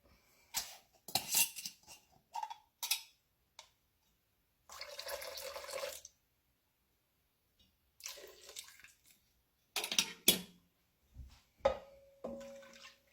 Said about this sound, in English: stir it to make sure it's incorporated